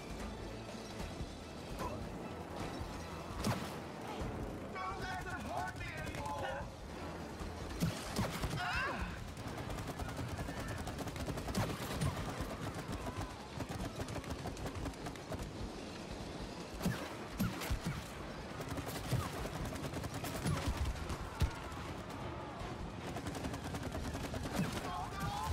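Rapid gunfire from shooting in the co-op video game It Takes Two, with dense bursts of shots running continuously alongside mechanical clatter and game music.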